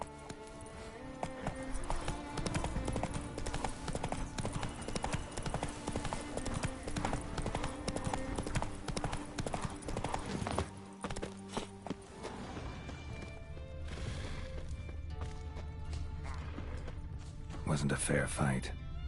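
Hooves of Roach, the horse in The Witcher 3: The Wild Hunt, clip-clop in a quick, steady trotting rhythm, close and continuous, over game music, with other game sounds and voices around them.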